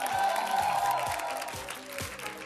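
Audience applause for a DJ at a Brazilian live radio or TV program, a steady wash of clapping throughout with some low rhythmic thumps underneath, fairly loud and close.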